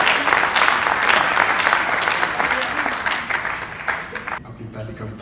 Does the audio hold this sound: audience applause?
yes